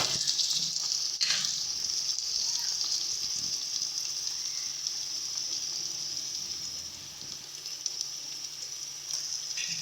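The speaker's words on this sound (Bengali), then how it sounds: "সমস্ত কিছু দিয়ে এবারে কিন্তু ভালো করে মশলা কষিয়ে নেব" Ground dried chilli, coriander and cumin with salt sauté in hot oil in a pan, giving a steady, close, even sizzle with a soft stir near the start and no talking.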